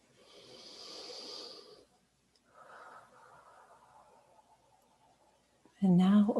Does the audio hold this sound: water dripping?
no